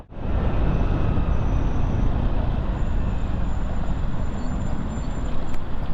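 Road traffic on a busy Hyderabad street, heard from a moving motorbike: a loud, continuous rumble of engines and wind wash surrounding the rider, steady throughout with no talking.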